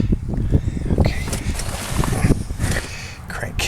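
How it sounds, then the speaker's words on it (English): Cold, gusty wind buffets the microphone outdoors while someone works on a 1993 Toyota 22RE pickup, a steady rough rumble that stays loud through the clip, with a voice talking over it. "Oh, it's cold and windy."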